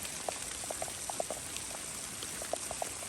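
Water runs into a cattle trough on a hillside behind a shack, a steady wash of trickling and splashing with scattered drips popping through it, continuous and moderately close.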